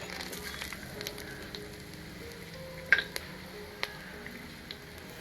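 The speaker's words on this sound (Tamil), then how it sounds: "எண்ணெய் சூடானதுக்கப்புறம் பிரிஞ்சி இலை, சோம்பு, பட்டை லவங்கெல்லாம் சேர்த்துக்கிறேன்" Bay leaf, fennel, cinnamon and ginger fry in hot oil for a Chettinad prawn gravy, a faint steady sizzle with a few sharp crackles and pops scattered throughout.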